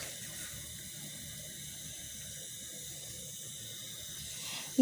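Water is poured into a wok for radish greens cooked with a fish head, a faint, even, steady hiss with no voices until a brief knock at the very end.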